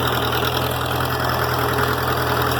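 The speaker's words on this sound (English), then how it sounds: "You have to deal with listening to me over a tractor." An International B275 tractor raking hay, its diesel engine running in a steady, loud, close-up drone with a rough, knocking low-end throb and constant vibration, unbroken throughout.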